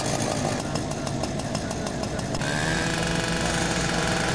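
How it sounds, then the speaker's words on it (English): A power saw cuts through a metal roll-up door during a firefighting response in the game EmergeNYC, a loud continuous whining rasp whose tone shifts partway through as the blade bites deeper. "Let's grab a saw and let's cut that roll up."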